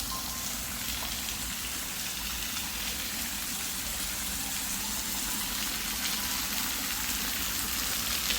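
An artificial waterfall cascades over an imitation rock face in a botanical garden on Phuket, giving a steady, dense rush of falling water that does not change, with no voices.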